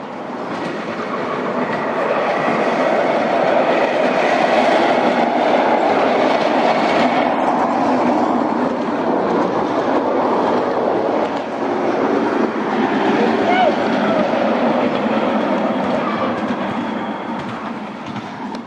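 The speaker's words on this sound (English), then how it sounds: "I'm going to take the boys on the miniature trains" A miniature train rolls steadily along its tracks with a continuous rumble and light clatter, close by and fairly loud throughout, with no talking.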